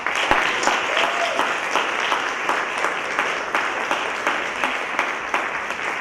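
Steady audience applause fills the room, many hands clapping continuously at moderate volume with faint voices underneath.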